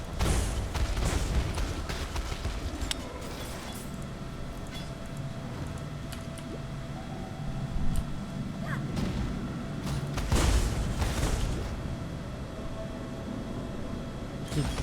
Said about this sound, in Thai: เผาแรงมากทั้งเผาทั้งระเบิดจะแรงมากครับ